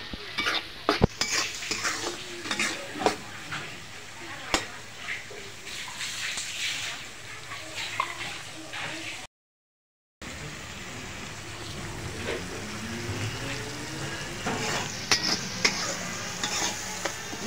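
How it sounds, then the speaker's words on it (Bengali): Shrimp is stir-fried in a pan with spices before radish greens go in, a steady close sizzle with frequent clinks and scrapes of a spatula, broken by a short silent gap. "এখন ভালো করে নেড়ে চেড়ে এটাকে ভেজে নিব।"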